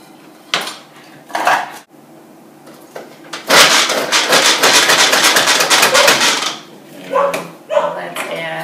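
A hand food chopper works through an onion, with repeated sharp plunging chops in a fast rhythmic burst, preceded and followed by a few separate clacks and clatters, loud and close.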